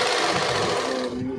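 A sewing machine stitches a sari with a loud, close, continuous mechanical rattle that holds steady throughout the short burst.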